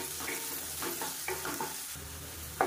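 Onions and garlic sautéing in a pan while being stirred, a steady sizzle broken by a few scraping spoon strokes, close up with no talking.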